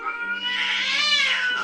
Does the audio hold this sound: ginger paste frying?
no